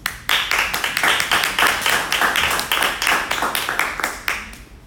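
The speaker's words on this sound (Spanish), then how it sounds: "Les bendecimos con un fuerte aplauso" A small group claps together at the opening of a triathlon and youth swimming strength-training session, the rapid claps dense and fairly close, starting abruptly and keeping a steady rolling rhythm throughout.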